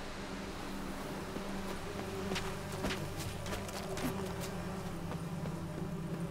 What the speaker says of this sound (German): Es sind hier überall Bienen.